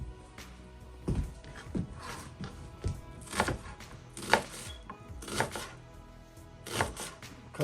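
Survival knife rough-chopping green peppers and onion on a board, a run of sharp irregular thunks with brief pauses between bursts, close and fairly quiet.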